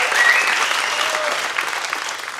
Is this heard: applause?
yes